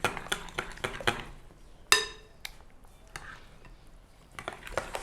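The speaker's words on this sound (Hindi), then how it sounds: "सबसे पहले हम दही में बेसन शामिल कर लेंगे और इसको इसमें अच्छे तरीके से मिक्स कर लेंगे।" Gram flour being stirred into yogurt in a bowl for Pakistani kadhi pakora, with a run of quick, close clinks and scrapes of a spoon against the dish and a few brief pauses between strokes.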